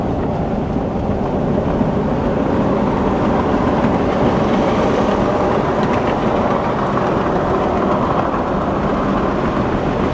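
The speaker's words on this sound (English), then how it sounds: "You do hear a fair bit of tyre noise." Steady broadband roar of tyre noise inside a Tesla Model Y RWD cruising on the highway with the front windows fully down, a constant loud rush mixed with wind and no talking.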